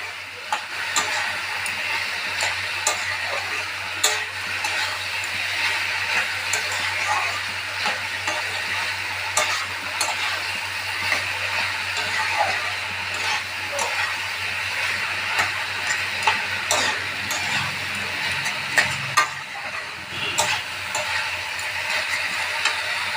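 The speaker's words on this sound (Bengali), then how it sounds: "ভালো করে সব একসঙ্গে দিয়ে ভালো করে ভেজে নেব।" A banana flower mixture fries in a pan with a steady, close sizzling hiss and soft stirring scrapes with a few light clinks, continuous and moderately loud throughout, with no talking.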